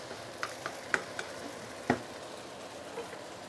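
Glass noodles stir-fried in a wok give a soft continuous sizzle, with a few light clinks and scrapes of the utensil against the pan, faint and close, with no talking.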